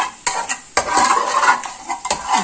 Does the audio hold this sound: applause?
no